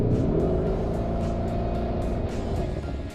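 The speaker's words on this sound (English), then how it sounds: "When you pop it into Corsa, oh, you start to get that Lamborghini sound." Lamborghini Urus engine running in Corsa mode, a deep steady rumbling drone heard close and continuous with faint rhythmic pulses over it and no talk.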